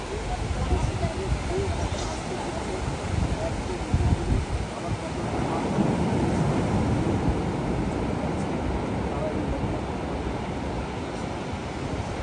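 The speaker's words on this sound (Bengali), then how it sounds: "আর একটু কাছাকাছি আসার পর এই দেখুন কত বড় ঢেউ" Large waves rolling in at Cox's Bazar beach on a winter night, a continuous heavy roar with wind buffeting the microphone, swelling around the middle, with a voice faintly present.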